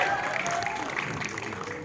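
Audience applause at a film press conference in Indonesia, greeting the producer of Kau dan Dia 2 as she is introduced; steady crowd clapping fills the room for a couple of seconds with voices mixed in.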